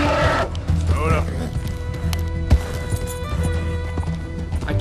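A horse gallops in Red Dead Redemption 2 with rhythmic hoofbeat clip-clops, a brief whinny and someone talking over it.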